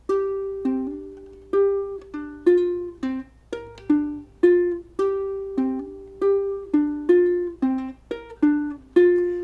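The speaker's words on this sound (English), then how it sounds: "plastic ukulele, ready to play this riff on the high G." A high-G tuned plastic ukulele plays a bright plucked riff alone, single notes in a steady repeating pattern, fairly close and clear.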